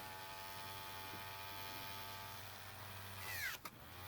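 A steady, high-pitched electric whine from an electric nail drill removing acrylic nails, running continuously up close, its pitch shifting briefly near the end.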